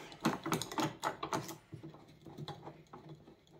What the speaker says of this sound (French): Je desserre ma pièce, je vais faire une coupe à 45 par exemple.